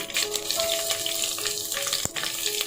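Garlic and ginger paste hits hot oil with cumin seeds, giving a steady, close, loud sizzle and hiss while fish with green onion is being cooked, broken by a single sharp clink partway through.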